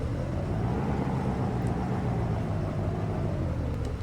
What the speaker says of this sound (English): Awesome, so I think we'll leave the engine running,